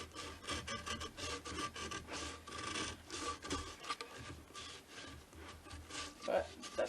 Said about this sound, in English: A flush cut saw is more effective if you have a lot of material you're trying to remove.